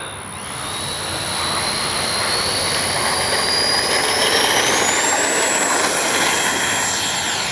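An FMS 64mm EDF F/A-18 Hornet RC jet flies overhead, its loud, steady ducted-fan whine rising and holding with a high tone sliding upward as it passes, alone without talk.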